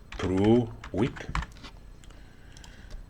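Quick keystrokes on a computer keyboard, close and fairly faint, clustered in the second half while the host setup is entered, following a short stretch of a person talking.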